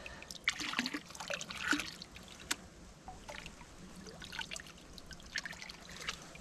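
Creek water trickling and dripping over stones at Bendigo Creek, where gold prospecting is underway; a steady, fairly faint babble with small splashy drips, no voices.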